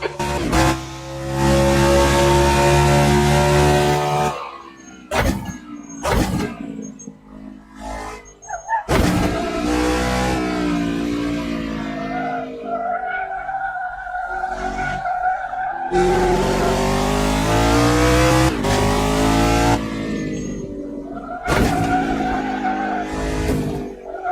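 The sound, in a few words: race car tires locking up and skidding, from a racing video game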